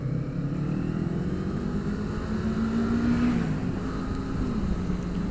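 A Kawasaki Eliminator 450 motorcycle on the move, its engine humming steadily with the pitch rising and then dropping as gears shift, mixed with wind roar and road noise, moderately loud and continuous, no speech.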